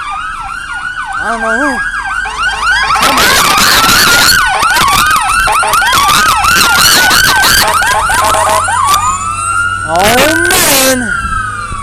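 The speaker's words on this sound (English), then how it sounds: "Oh, it's an ambulance." An ambulance siren wails past on a freeway, loud and close, its rising and falling yelp cycling steadily over car and road noise, with someone briefly talking.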